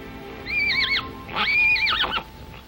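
A horse neighs twice in quick succession, a loud, close whinny with a shorter call followed by a longer, wavering one, alone without talk.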